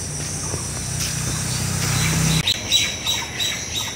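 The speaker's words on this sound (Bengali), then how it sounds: "এই যে পাখিগুলা কিন্তু ডাকছে গ্রামে" Birds call in a village on a quiet morning, with short, high chirps and squawks over a steady outdoor background hum, moderately close and with no talking.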